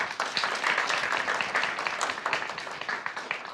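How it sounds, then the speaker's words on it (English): Audience applause at an apprenticeship graduation ceremony, dense and steady clapping from many hands at close range for a few seconds, with no talking. "Let us do a round of applause for him."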